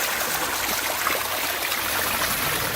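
Water splashes and trickles steadily into a pond liner basin, a close, continuous rushing babble with no voices.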